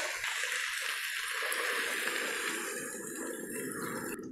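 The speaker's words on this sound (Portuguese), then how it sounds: "E agora a gente vai entrar com a água. Eu já deixei a água quente." Hot water is poured into a pot of rice, making a steady rushing, gurgling pour that runs continuously at moderate volume before cutting off abruptly at the end.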